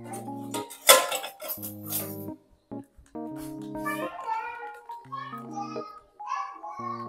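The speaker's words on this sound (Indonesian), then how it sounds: "ini tepungnya mau aku campurin dulu sama baking soda" Flour is mixed with baking soda in a bowl, with scattered spoon clinks and knocks against the bowl under a person talking.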